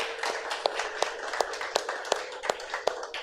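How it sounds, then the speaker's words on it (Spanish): A church congregation claps in a steady, fairly quick rhythm, sharp hand strikes repeating evenly at moderate loudness over a diffuse background wash. "Una fuerte ofrenda de aplausos al Señor."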